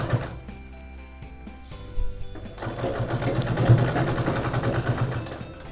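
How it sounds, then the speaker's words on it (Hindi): Sewing machine stitching fabric for a blouse, close and clear: a few slow mechanical clicks and hums, then a steady rapid rattling run of stitching that continues to the end. "एक सिलाई लगाना"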